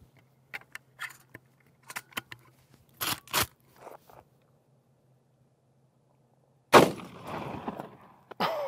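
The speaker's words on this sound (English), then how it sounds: "Let's take another shot and see if we can capture a bullet and some high speed." A .45-70 rifle firing a 325-grain FTX LeveRevolution bullet, preceded by scattered handling clicks and rustles, then one loud, close blast that tails off into ringing noise and clatter.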